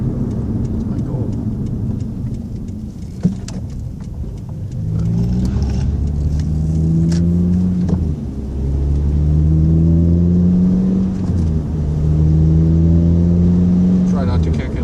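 A tuned car with a goal of roughly 180–185 wheel horsepower, driven in bad weather, its engine revving up through rising pulls with gear changes between, loud and continuous from inside the cabin.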